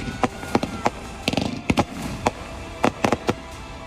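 Fireworks bursting over the Hudson River during a Diwali celebration, a rapid irregular series of sharp cracks and bangs, some in quick clusters, loud against a continuous crowd and city rumble.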